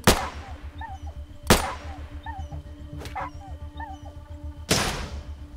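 Gunfire in the video game ATOM RPG strikes a dog in a ruined dead city: three sharp, loud shots spaced a second or two apart, with a dog's short yelps and whimpers between them over a low droning game background.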